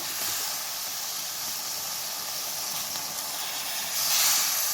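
Masala with turmeric and tomato frying in a pan for drumstick, brinjal and potato sambar, a steady close hiss and sizzle that swells briefly near the end, without talk.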